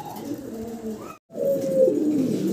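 A pigeon kept by a bird seller coos softly at close range in a low, warbling call, broken by a brief silent gap and then resuming more strongly.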